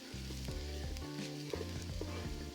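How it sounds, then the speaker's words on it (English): Loud, steady sizzling of garlic frying in hot oil in a pan, with a low hum running underneath throughout. "that aroma from that garlic and that oil sizzling in the pan."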